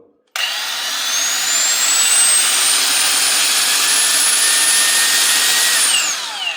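A ProCraft brushless angle grinder, the 1100 W or 1300 W model, spins up and runs loudly and steadily for about six seconds with a rising high whine, then winds down at the end.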